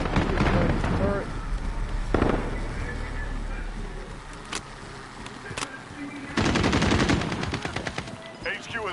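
A turret machine gun fires in a Call of Duty video game, with rapid bursts and scattered gunshots. Heavy sustained fire builds near the end, under game voices and commotion.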